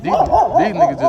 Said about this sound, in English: excuse the dog right there